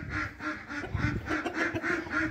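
Several farmyard ducks quacking in a rapid, rhythmic run of loud nasal calls, repeated about every quarter second, close by with faint shuffling beneath.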